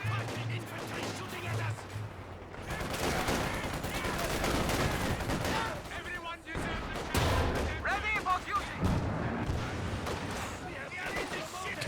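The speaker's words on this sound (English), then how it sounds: "why the heavy mortar is good. Just out of the blue, lands a shot like that, results in a wipe" Heavy mortar shell landing in a Company of Heroes 2 battle, loud booming impacts amid dense continuous gunfire and explosions, with a commentator talking over the action.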